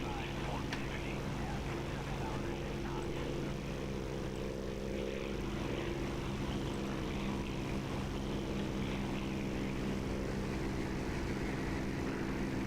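Propeller aircraft engine in the DCS flight simulator, a steady droning hum with layered tonal bands running continuously throughout, loud and unbroken, with no talk over it.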